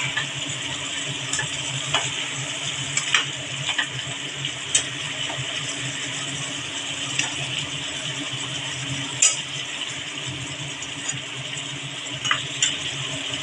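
Raw hilsa fish pieces fry in a small kadai, a steady dense sizzle holding throughout with scattered sharp pops and crackles, close and fairly loud, no voices.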